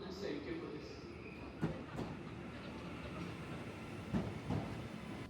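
A TransPennine Express train rumbles and rattles softly from inside a carriage, with occasional clunks of the wheels over track joints as it pulls away from Manchester Piccadilly.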